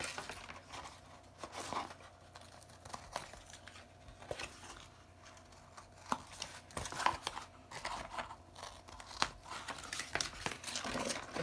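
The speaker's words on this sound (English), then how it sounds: "I'm going to go ahead and trim off these pieces now just so that they don't keep sticking to things." Paper flexagon pieces being trimmed with scissors: quiet, close crinkling and snipping of paper in irregular bursts over a low background.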